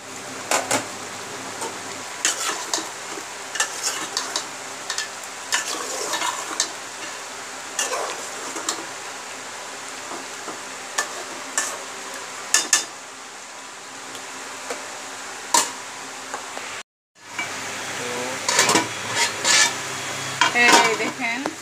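Qurbani Eid beef being stir-fried as kosha in a pan: a steady sizzle under repeated clattering spoon scrapes against the metal, close up, with a brief silent break and no voices.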